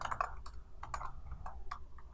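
Rapid typing on a computer keyboard, a close, quiet series of uneven key clicks in quick bursts with no voice.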